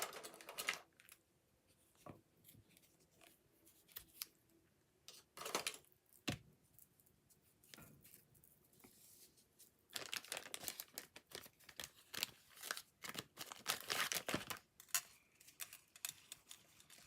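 Cardstock being cut for a Stampin' Up! Friendly Foliage papercraft project, with crisp crinkling, snipping and rustling bursts in irregular clusters, louder toward the end, close-up and with no speech.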